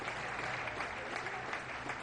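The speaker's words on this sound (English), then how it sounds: "applause from the Brighton fans" Brighton football fans applaud at a women's match against Leicester City, a dense, steady crowd clapping heard from a distance across the stadium.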